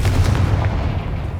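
A Confringo fire spell in the game Hogwarts Legacy bursts with a single loud, heavy boom that rumbles on and fades through a short moment.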